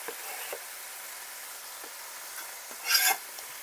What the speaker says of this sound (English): Now I'm going to add my onion in there and sauté it a little bit.